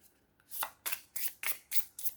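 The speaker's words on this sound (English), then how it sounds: "So it shuffles beautifully. You can hear from the sound of the cardstock it's going to be a good one." Crisp papery riffles of a mini oracle card deck being shuffled, six quick bursts in a steady rhythm, close and clear with no talking.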